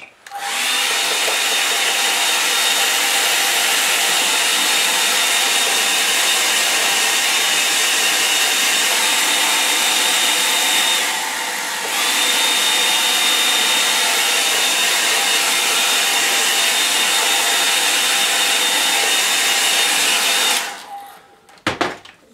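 A hair dryer blows steadily on a drying watercolour painting, a loud continuous whir that dips briefly near the middle and cuts off just before the end, with no talking over it.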